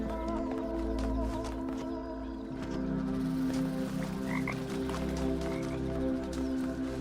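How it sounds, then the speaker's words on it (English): Frog croaking in the video game The Talos Principle 2, steady repeated croaks from an outdoor game scene layered over a constant ambient hum, with no talking. "I heard a frog."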